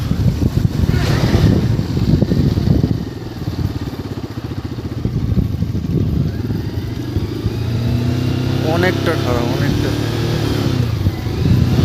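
A motorcycle engine running with shifting revs under engine braking, wind buffeting the microphone, while people talk over it.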